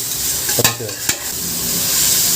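Ginger, green chili and garlic paste fries loudly in a pan, a dense continuous sizzle with two sharp clacks of a stirring spoon against the pan near the start.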